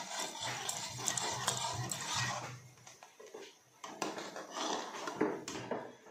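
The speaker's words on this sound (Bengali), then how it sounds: "এটা এখন নাড়তেই থাকতে হবে। তো আমি নেড়েই যাব।" Close, repeated scraping and clinking of a utensil against a pot as food is stirred continuously, with rhythmic scrapes, light metallic taps and a brief quieter pause midway.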